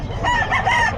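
A rooster at Bocaue pet market gives a single close crow, a short harsh drawn-out call standing clear above faint background murmur.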